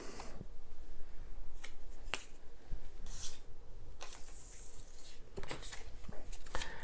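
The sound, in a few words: shuffling board game cards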